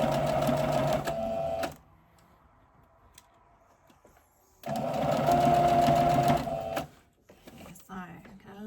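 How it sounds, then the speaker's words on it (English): Sewing machine stitching the corner of an elasticated trouser pocket, two steady rapid whirring runs of about two seconds each, close and loud, separated by a quiet pause, with a voice talking between them. "we're just going to stitch a little bit further along, and then we're going to lower our needle"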